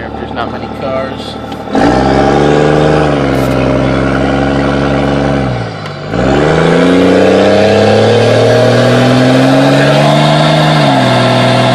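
Cummins diesel truck fitted with a 4 inch exhaust stack, revving loud and close in two long rising pulls with a dip between, deep throaty roar throughout.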